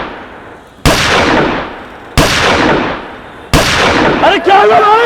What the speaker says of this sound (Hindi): पटाखों की नहीं है, गोलियों की आवाज़ है शायद।